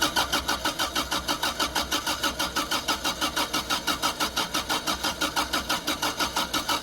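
A Toyota MK1 MR2 with a 1.6 engine cranks steadily on the starter, a fast even rhythm of about six pulses a second running throughout without catching, close and fairly quiet.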